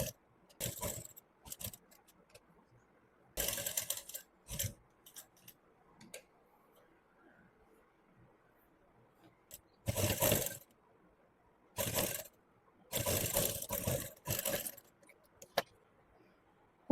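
A sewing machine stitches around a V neckline in short, separate runs: brief bursts of rapid mechanical clatter with quiet pauses between them, close by and with no talk.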